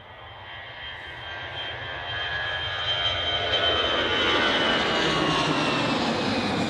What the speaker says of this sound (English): I'm going to stay with the Cessna.